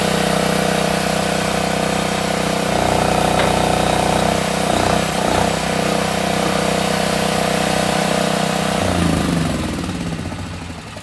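An engine runs steadily at idle, loud and close, with a mechanical hum and rattle that shifts partway through and fades slightly toward the end.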